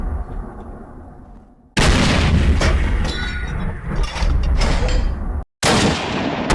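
USMC artillery pounding an enemy base in a modded Minecraft server war, heavy booming blasts rolling continuously and loudly, broken by two abrupt silent cuts, with no voices.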